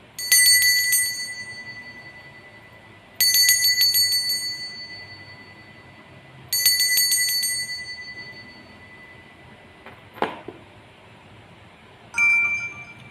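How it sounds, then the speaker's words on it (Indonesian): A bright metallic bell rings three times in evenly spaced strikes, each ringing out and decaying, followed by a short clink and a fourth softer strike. "Kita akan memulai dengan ditandai lonceng berbunyi"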